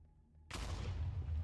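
An explosion hits in the Minecraft video game: quiet ambience gives way to a sudden loud blast whose rumbling boom lingers and swells for about a second.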